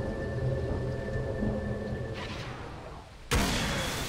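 A deep rumbling boom from the Disruptor hero's thunder spell in the Dota 2 video game cuts in sharply near the end, following a duller game ambience with a steady tone.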